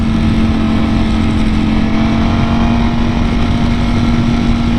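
Ducati Panigale V4R motorcycle with an Akrapovic exhaust out on a ride: a steady, loud engine drone holding a constant pitch at cruising speed, with heavy wind rush and no talking.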